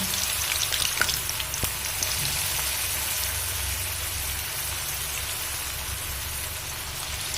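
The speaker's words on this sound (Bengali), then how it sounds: "এক পিঠ ভাজা হয়ে গেছে এবার উল্টে দেব" Drumstick flower pakoras frying in oil give a constant, dense sizzle and bubbling crackle, close and even in level from start to finish.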